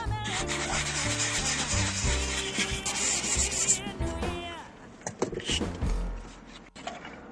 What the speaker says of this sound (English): sand the other applications of varnish, so I'm going to do that real quick.